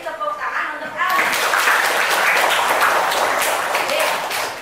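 Classroom applause for a pupil, a burst of children's clapping that starts after a short stretch of voices and stays steady and fairly loud to the end.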